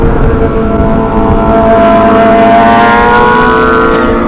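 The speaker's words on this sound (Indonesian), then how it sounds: "berisik banget knalpot Aldi aja." A loud motor exhaust revs steadily, its harmonic drone rising in pitch toward the end, with no speech over it.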